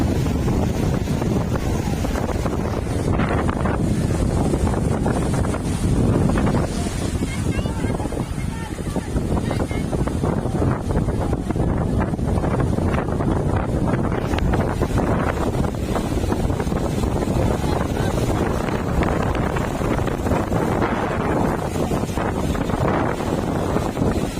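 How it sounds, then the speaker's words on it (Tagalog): Strong sea wind by the shore buffets the microphone in a constant heavy rumble, gusting in waves, with faint voices buried underneath. "Lakas ng hangin."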